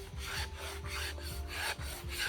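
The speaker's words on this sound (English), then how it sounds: "So dig in there, and all you do is you scrape." A blade scraping bamboo into fine tinder shavings, producing a close, rhythmic rasping in repeated strokes, about six quick passes back and forth with no talk.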